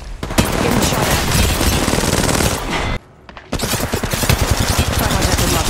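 Rapid automatic gunfire rattles in bursts in a mobile shooter game, loud and dense, broken by a short quiet gap before another sustained volley.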